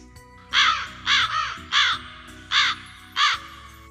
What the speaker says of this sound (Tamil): காகம் கரையும்.